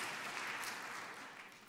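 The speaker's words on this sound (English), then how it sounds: "Can we give a clap offering for them?" A church congregation gives a faint round of applause for online viewers, a soft, even patter of many hands that sounds distant and slowly fades toward the end.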